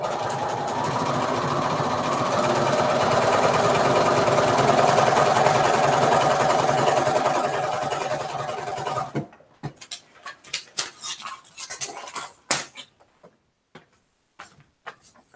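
A sewing machine stitches a quilt seam in a steady, close whirring run for about nine seconds, then stops, leaving scattered soft clicks and handling taps.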